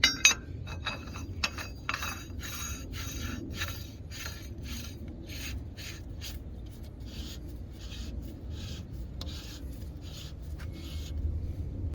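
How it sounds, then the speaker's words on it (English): Repeated metallic clinks and scraping as a nut is threaded onto a Freightliner Cascadia truck wheel hub with a ConMet PreSet Plus bearing, close and fairly quiet, in quick irregular bursts over a low workshop hum. "So now we're just gonna put the nut."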